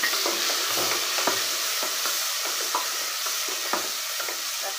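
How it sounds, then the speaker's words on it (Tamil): Green chillies and tomatoes sizzle in a pan of frying onions, a steady close hiss with repeated scraping stirs of a spatula throughout and no voices. "இப்போ வந்துட்டு நம்ம கட் பண்ணி வச்சிருக்க பச்சை மிளகாவும் தக்காளியும் இதில் சேர்த்துக்கலாம்"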